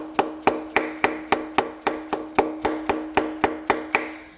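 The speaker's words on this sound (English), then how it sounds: "just take your little rubber mallet and just kind of tap around the bolt hole like that" A small rubber mallet taps repeatedly around a bolt hole on a Chevy 350 engine, about fifteen sharp, evenly spaced knocks in a quick regular rhythm, close and clear with no voices.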